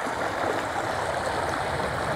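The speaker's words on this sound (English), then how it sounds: "we decided to come down to the river and get some water" A river flows steadily in the Superstition Mountains, a loud, constant rushing and gurgling wash of water that fills the whole stretch without a break or any voices.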